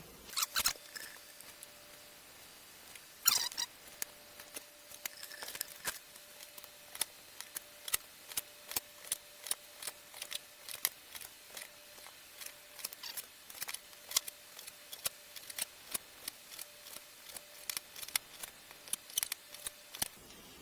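A knife slicing flank steak against the grain on a board, heard as a steady run of short, crisp cutting clicks close by, with no talk.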